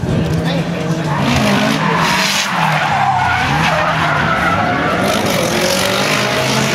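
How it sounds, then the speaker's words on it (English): A race car spins through donuts off the circuit at an Australian drifting Grand Prix, tyres squealing and skidding continuously under a loud engine roar, with a commentator talking over it throughout. "The number 12 car off the circuit and doing donuts."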